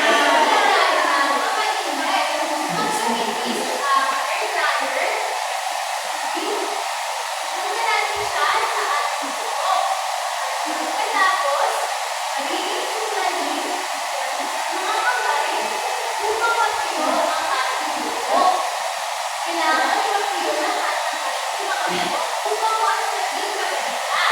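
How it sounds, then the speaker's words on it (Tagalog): A hair dryer roars continuously and loudly throughout, with faint voices and chatter in the background. "Paalala lamang yung saan lang bubuksan ng hair dryer"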